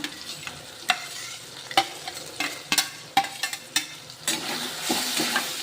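Potatoes with a little turmeric fry in a pan for a Marathwada-style dish, a soft steady sizzle broken by sharp, repeated scraping clinks as a spoon stirs every half second or so, with no talking.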